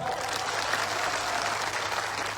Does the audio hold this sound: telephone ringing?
no